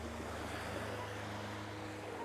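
Sea waves roll in along the Mathagal coast in Jaffna, a continuous, fairly loud wash of surf with a low rumble underneath and some wind, with no one speaking.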